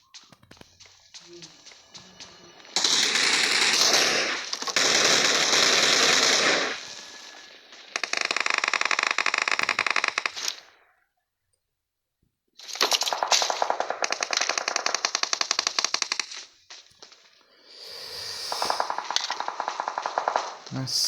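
Sustained automatic gunfire from the mobile battle royale game PUBG Mobile, loud bursts lasting several seconds each, broken by a short silent gap and ending in a quieter final burst, with occasional talk in the background.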